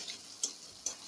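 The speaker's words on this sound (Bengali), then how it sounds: "দিয়ে সবগুলি একটু ভাজা করে নেব" Chopped garlic hitting a pan of onions already frying with salt and turmeric, giving a quiet, steady sizzle with two soft taps about half a second apart.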